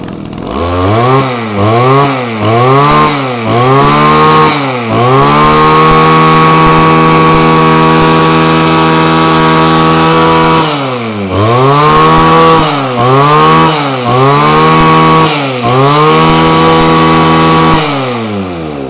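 A petrol grass trimmer, a Japanese-made K4 unit with a 34 mm cylinder, is test-run by itself at close range, its two-stroke engine revving up and down in repeated bursts with a long steady high hold in the middle.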